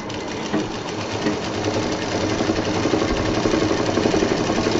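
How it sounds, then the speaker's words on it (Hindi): A sewing machine runs continuously, stitching closed a fabric fruit cover with a steady, even whir that grows slightly louder toward the end. "और अब ये जो हमारा खुला हुआ है इसको भी हम सिल देते हैं।"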